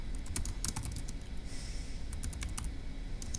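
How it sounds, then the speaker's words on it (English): Someone types on a computer keyboard close by, with quick, uneven bursts of key clicks and short pauses over a low steady background hum. "I'm just going to type it up as one of the odds"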